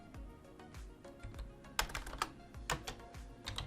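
A steady run of computer keyboard typing as a chatbot prompt is entered, with irregular clicks that grow louder and denser toward the middle, close and alone with no talk.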